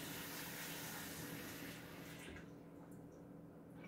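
Water pours steadily from a tap over grapes being rinsed, a dense hissing splash that stays loud and continuous before easing slightly toward the end, close and without talk.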